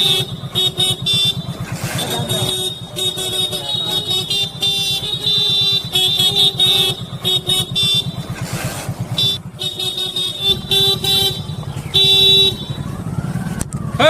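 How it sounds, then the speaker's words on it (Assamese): A motorbike rides through busy road traffic, its steady engine drone running throughout while car horns toot repeatedly nearby and other vehicles pass close. "মই বাইক চলাই আছোঁ"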